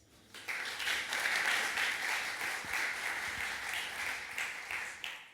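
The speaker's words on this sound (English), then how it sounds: "give them a warm round of applause" An audience claps for speakers at a security conference talk, a dense, even burst of applause lasting several seconds before tapering off, heard from within the hall.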